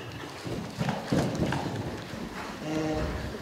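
Heavy hoofbeats of a large showjumping horse clip-clopping nearby during schooling, irregular thuds over a rough outdoor background.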